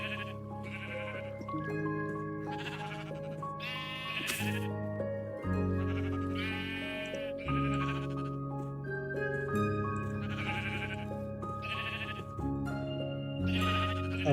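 Sheep bleat repeatedly in a Minecraft wool farm, short wavering calls that come up over steady, sustained background music and change tones throughout.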